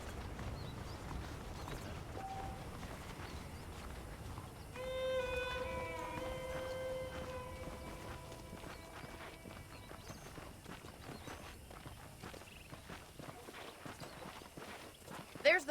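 Horse hooves clip-clop at a steady walking pace in Red Dead Redemption, moderately close under game ambience, with a sustained tonal passage rising partway through.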